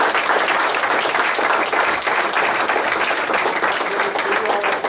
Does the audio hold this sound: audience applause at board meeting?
yes